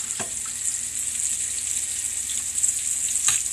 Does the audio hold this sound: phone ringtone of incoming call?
no